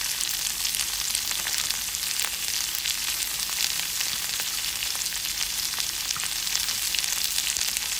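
Curry leaves, garlic and shallots sautéing in hot oil for a greens stir-fry, a dense continuous hiss of frying that stays even and close for the whole stretch, with no voices.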